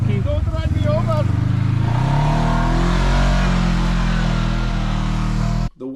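A Kawasaki KRX 1000 side-by-side engine roars and revs loudly, its pitch rising and holding close by, with a person talking over the engine early on before it cuts off abruptly near the end.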